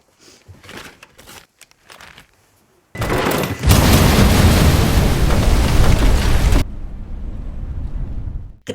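A loud, sustained blast from a suitcase of money in a film, preceded by scattered crackles and followed by a roaring, debris-filled rumble that drops to a lower churning noise.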